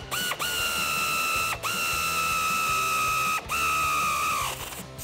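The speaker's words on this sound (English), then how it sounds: "I got my 18 on my air ratchet. I'm going to tighten this up" An air ratchet with an 18 mm socket tightens a ball joint on a 2015-2019 Ford F-150, giving three sustained whirring bursts with a steady high whine, separated by brief pauses, close and fairly loud.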